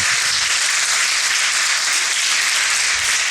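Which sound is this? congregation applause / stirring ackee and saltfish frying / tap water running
congregation applause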